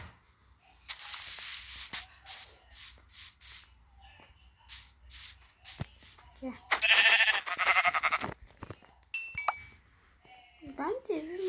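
Several short bleats of sheep in Minecraft, fairly close, mixed with game sound effects, a few chiming tones and a speaking voice.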